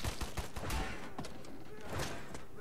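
Gunfire in the shooter game Wolfenstein: The New Order, with loud, rapid bursts of shots and heavy impacts packed close together across the clip.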